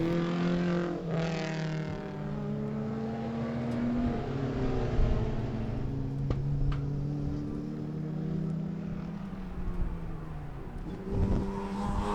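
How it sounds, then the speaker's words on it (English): Race cars lapping a sprint event at Hampton Downs circuit, including a late-model Shelby GT Mustang, an early Mazda RX-7 and Daihatsu Sirions, with engines droning and rising and falling in pitch as they pass, loud and continuous. "It's the RX-7 of Ferguson, Privet, and a late model Shelby GT Mustang, another early RX-7 in the hands of Bates"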